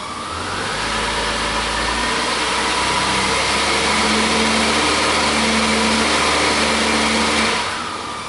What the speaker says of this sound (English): I've got it in gear right now, and I'm going to give it a little bit of throttle